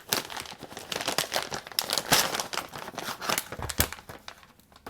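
Plastic packaging on an extended battery case for an iPhone 12 being ripped open, a loud close burst of crinkling and tearing with sharp crackles and scrunches throughout, no voices.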